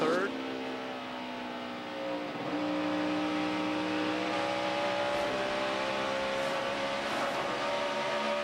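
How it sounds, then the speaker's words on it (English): A NASCAR stock car racing at Pocono in the 2011 5-Hour Energy 500 downshifts into turn 1, its engine a loud, steady onboard roar with a clear pitch drop then rising again, heard continuously with no talk over it. "I'll downshift again here in a little bit, going down into turn 1"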